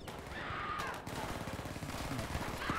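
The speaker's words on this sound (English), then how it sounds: "What is that contraption? That might be the MG42." An MG42 machine gun fires in Battlefield V, a rapid, sustained stream of closely spaced shots running throughout over a steady battlefield din.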